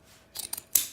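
Scissors snip through material while cutting corners at a 45-degree angle during boat lid hardware work, a few quick close cuts with a sharper final snip, no talking.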